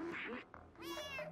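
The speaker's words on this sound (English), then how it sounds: "I tried meowing, but it's the same button as cancel" The cat in the video game Stray gives two close, clear meows, a short one followed by a longer, rising meow, with soft game ambience underneath.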